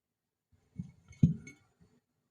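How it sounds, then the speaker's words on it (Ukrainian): Tomatoes placed into a glass jar for preserving in their own juice, giving a few soft clinks and knocks against the glass, close up in a quiet room. "Накладаємо наші помідорчики в банку."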